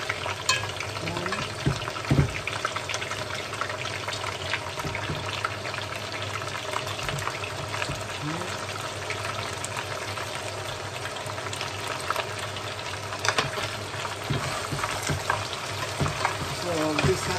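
Vegetables sautéing in a pan for a coconut cream vegetable dish with crab, a constant soft sizzle with occasional stirring scrapes and clinks, fairly quiet and steady throughout, no voices.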